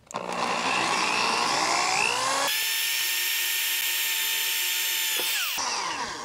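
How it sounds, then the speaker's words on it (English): A power drill bores through fiberglass, aluminum channel and into the steel frame of a 2000 Coachmen Sportscoach RV during a compartment door hinge repair, whining loudly and steadily with a pitch shift partway as it breaks through, then winds down. "we're gonna drill through the fiberglass, we're gonna drill through this piece of aluminum"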